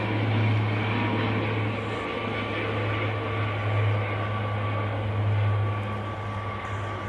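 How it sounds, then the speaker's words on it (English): Emerald Air ATR turboprop airliner touching down at Manchester Airport: a steady, moderately distant propeller drone with a constant low tone that swells slightly, with no voices. "Emerald Air ATR just touching down here"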